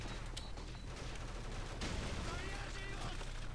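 Call of Duty 4 match with rapid gunfire, including a sniper shot: sustained crackling bursts of shots with sharper cracks standing out, under dense game noise and fairly loud throughout.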